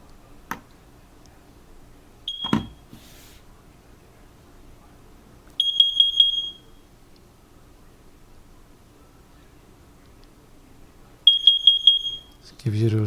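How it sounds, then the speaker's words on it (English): A First Alert carbon monoxide detector sounds its test signal: two separate bursts of rapid, high-pitched electronic beeps several seconds apart, close and fairly loud over a quiet room, with faint clicks and handling noise between them. "Gives you those 2 beeps,"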